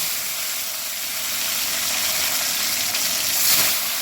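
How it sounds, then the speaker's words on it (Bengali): Fish frying in hot oil for a Bengali fish curry with cauliflower, potato and tomato, a steady, close, broadband sizzle and hiss with no talk. "প্রথমে মাছগুলো আমি ভেজে নেব"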